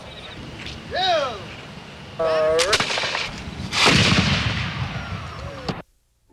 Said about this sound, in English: The gun brought up and cocked, and it was ready to fire.